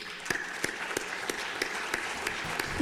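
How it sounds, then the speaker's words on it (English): Lawmakers in the Arizona legislative chamber applaud a young girl seated in the gallery: steady, even clapping at moderate volume from a sizable group, continuing without voices. "give her a round of applause for her strength and her courage"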